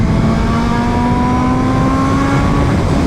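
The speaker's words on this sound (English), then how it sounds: "Just the way this engine revs, so fun" A BMW M1000RR motorcycle engine revs loud and steady, holding a high whining tone that climbs slowly throughout, with no speech.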